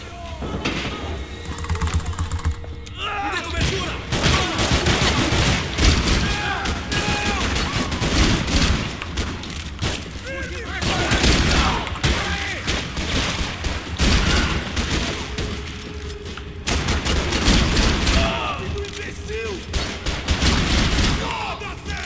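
Rapid video game gunfire from a shotgun and pistols fills a Skyrim session, dense overlapping shots and bursts crackling almost continuously with short lulls, loud and close, with occasional voices underneath.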